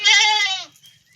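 A single goat on a goat farm lets out one loud, clear, wavering bleat close by, lasting just over half a second before quiet returns.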